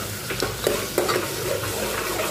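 Bottle gourd curry fries in oil with a constant loud sizzle, broken by a few scrapes and clinks of a spoon against the pan, no one speaking.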